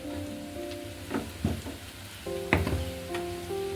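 Ginger garlic paste fries in hot oil in a pan, a steady close sizzle broken by a few sharp spoon scrapes and clinks, with no talking.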